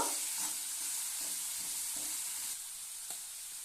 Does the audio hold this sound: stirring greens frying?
yes